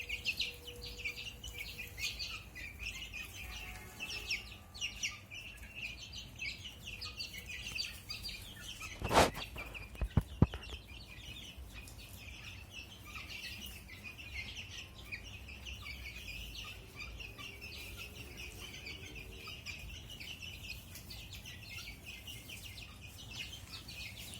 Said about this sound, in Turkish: yavrularımız da ötmeye başlamışlar